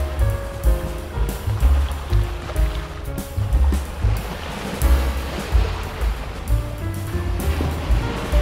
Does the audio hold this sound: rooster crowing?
no